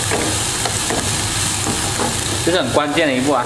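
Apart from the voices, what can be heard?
green peppers stir-frying in hot oil in a pan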